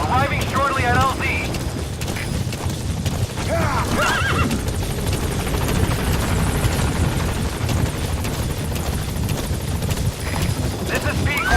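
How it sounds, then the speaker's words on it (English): The support helicopter in the video game Metal Gear Solid V arrives as a steady, loud rotor rumble filling the whole stretch, with brief high, wavering tonal cries near the start. "Support helicopter has arrived."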